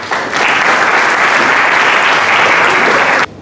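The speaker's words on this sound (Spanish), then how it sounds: "Irene Duarte, la recibimos con un fuerte aplauso" A hall audience gives a loud, steady round of applause at a Spanish-language launch event for expressive therapies and a theatre school, continuous dense clapping that stops abruptly.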